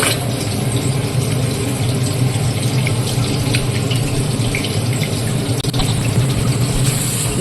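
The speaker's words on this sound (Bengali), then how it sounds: "চালটায় পাউডার আছে ভালো করে একটু ধুয়ে দিতে হবে" Rice is rinsed under running tap water in a kitchen, a steady loud splashing gush that continues without break, with faint handling in the bowl beneath.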